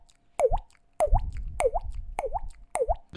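A beatboxer imitates a water drop sound effect with the mouth, five sharp, bright plopping drips spaced evenly about half a second apart, close and alone.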